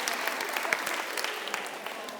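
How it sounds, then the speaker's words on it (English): Audience applause at a professional talk on learning, a steady wash of many hands clapping with scattered louder claps, moderately distant and continuous for the whole stretch. "Applause for our friends who've been doing this for 25 years."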